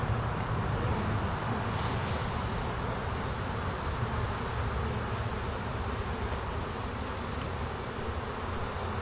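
Honey bees from an opened hive during spring buildup make a dense, steady buzzing close by, unbroken and fairly loud throughout, with no voices.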